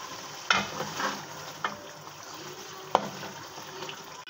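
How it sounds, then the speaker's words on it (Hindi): A pan of chicken karahi with grated tomatoes stirred during cooking: soft sizzling and wet scraping, with a few sharp clicks of the spoon against the pan, heard alone and up close. "अब हम इसमें ऐड करेंगे टमाटर कद्दूकस किए हुए, इसको अच्छी तरीके से मिक्स कर लेंगे।"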